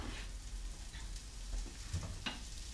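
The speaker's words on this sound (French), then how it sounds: "je vais les mettre dans ma marmite qui là maintenant a bien chauffé, elle est à feu vif" Smoked sausages sizzle and crackle in a pot heated on high with no fat, giving a steady, moderately loud frying hiss with scattered pops and faint clinks, and nobody talks.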